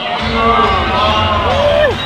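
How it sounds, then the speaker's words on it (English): Crowd noise with cheering and whoops swells briefly at a snowboard qualifier, loud and close, with a voice shouting over it. "A little fake crowd applause from the sound department."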